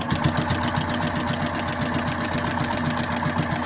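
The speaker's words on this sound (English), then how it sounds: "We're going to sew right up the edge really quick." A sewing machine runs steadily and loudly, stitching straight up along the edge of a fat-quarter fabric piece with a fast, even mechanical chatter throughout.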